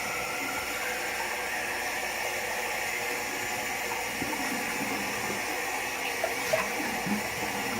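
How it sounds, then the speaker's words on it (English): Tap water runs steadily into a bowl, a constant close rushing stream with no speech over it. "Add new water in my bowl."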